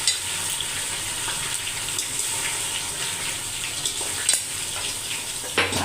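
Ginger garlic paste fries with onions in a pan, a steady hiss and sizzle with a few brief clinks, close and moderately loud, with no talking.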